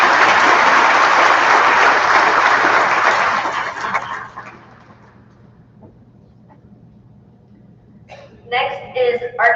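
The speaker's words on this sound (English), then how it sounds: "Let's give both of these scholars a round of applause." Loud applause from an audience at an academic awards ceremony for scholarship winners, a dense sustained clapping that fades out after about four seconds before a voice begins speaking.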